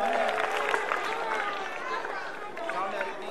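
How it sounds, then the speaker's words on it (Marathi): An audience at a school gathering applauds a student, a dense wash of clapping and crowd noise with voices mixed in. "पुन्हा एकदा टाळ्या होत्या तिच्यासाठी."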